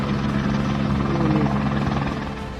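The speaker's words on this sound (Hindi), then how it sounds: "पाकिस्तान आर्मी एविएशन कॉर्प्स के हेलीकॉप्टर लोगों को रेस्क्यू करते दिखे" A Pakistan Army Aviation helicopter flies over Rawalpindi floodwater during a rescue, its rotor and engine giving a loud, steady, throbbing drone that holds nearly unchanged throughout.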